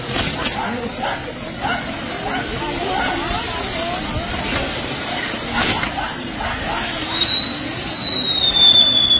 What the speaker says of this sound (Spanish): Ahí están los reguiletes, los reguiletes chifladores.